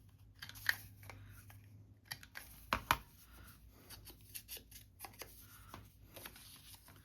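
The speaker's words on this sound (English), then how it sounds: "I think I'm actually going to trim it down a little" Scissors snip at a paper luggage tag in a few short, close, crisp cuts spaced across a quiet room, with faint rustling of the paper between cuts.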